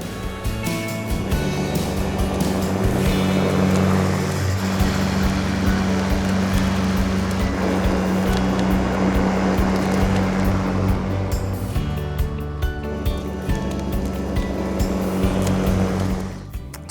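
EGO LM1900E-SP 47cm cordless 56V push mower cutting grass, a steady electric motor hum with blade whirr and rustling clippings held near and constant throughout before cutting off at the end.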